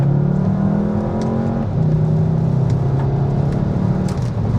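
Volkswagen Jetta GLI with DSG gearbox, its engine note piped into the cabin by a sound actuator: a steady, throaty drone with shifting harmonics as revs rise and settle, heard from inside the car with no talk.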